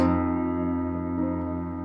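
A single sustained piano chord, an F-based 5/3 chord, rings out clearly and slowly decays, with no talking.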